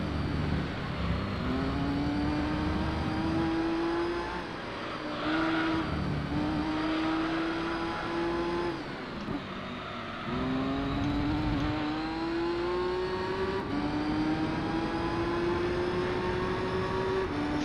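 Race car engine in the Gran Turismo 3 video game, a continuous droning whine climbing in pitch through repeated gear upshifts, each rise ending in a brief dip before climbing again, loud and steady with no talk.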